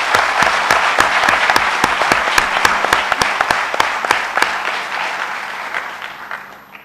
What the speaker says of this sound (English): I request all our audience to give a grand applause to our guest speaker